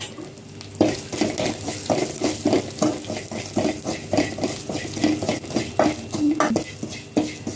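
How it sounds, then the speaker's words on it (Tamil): Asafoetida and spices sautéing in a pan of hot oil, a steady sizzle with repeated scraping and stirring strokes at a brisk rhythm, close and clear with no voices. "போட்டு இதை வதக்கிடலாம்."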